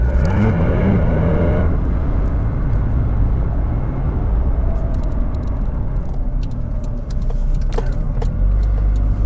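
A 2004 Honda CR-V drives and brakes after a master cylinder replacement, with a steady loud road and engine rumble throughout and a slight dip as the car slows in a smooth stop.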